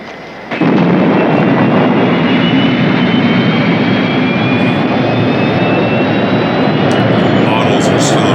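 Eagle spacecraft lifting off in a science-fiction TV series, its engines giving a loud, sustained rumbling roar that starts abruptly and holds steady, with a faint high whine riding over it.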